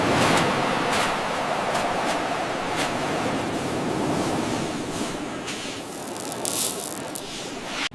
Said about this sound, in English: We made it to the beach